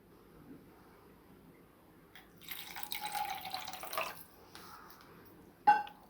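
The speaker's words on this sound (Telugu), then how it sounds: "దీనిలోకి కొంచెం వాటర్ వేసుకోవాలి" Water splashes into a tumbler for churning butter, a close, brief pour of about two seconds following a quiet stretch, then ending with a sharp clink.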